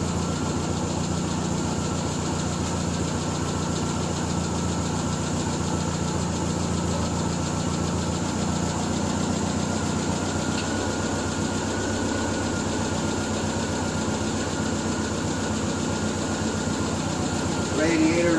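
A classic car engine idles steadily at low revs after warming up, a constant rumbling hum that stays even throughout, with a brief faint sound near the end.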